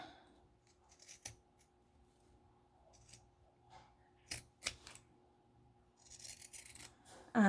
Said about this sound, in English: It is a little hard to cut through all the pleats